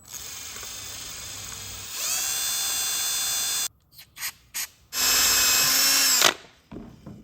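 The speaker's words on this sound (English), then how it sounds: "I'm gonna take my left-hand drill bit and get that in that little indentation" An electric drill fitted with a left-hand drill bit whirs in two sustained bursts, separated by a few short stop-start pulses of the motor, close and loud, while working on a wrecked 2009 Yamaha R6.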